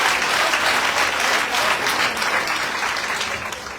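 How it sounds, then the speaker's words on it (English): Sustained audience applause at a Sri Lankan political broadcast, dense and steady clapping from a large crowd filling the whole stretch without speech. "we clap for the SLPP government"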